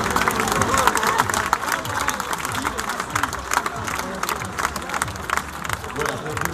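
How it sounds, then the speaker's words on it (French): A crowd at the Union Bordeaux Bègles rugby squad presentation for the 2016-2017 season claps and cheers steadily, with voices and crowd noise mixed through the applause. "Vous pouvez donc tous vous applaudir, mesdames et messieurs."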